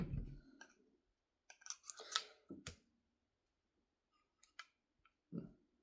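Scissors trim excess Teflon tape on a sniper core, giving several crisp, close snips and clicks separated by short silences.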